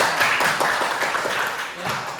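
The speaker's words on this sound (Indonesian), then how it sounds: "Tepuk tangan ya" A school class clapping hands together, a dense, fairly loud burst of quick overlapping claps from many children that fades slightly over a couple of seconds.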